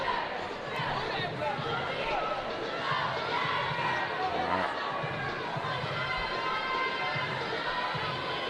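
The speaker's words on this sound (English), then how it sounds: "Arlington Heights cheerleaders here cheering on the Yellow Jackets" Cheerleaders chanting in a high school basketball gym, a steady crowd roar with cheering and chatter throughout and an occasional ball bounce, people talking over it.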